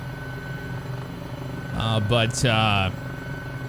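Helicopter in the video game Microsoft Flight Simulator, a steady rotor and engine drone that hums continuously under someone speaking briefly.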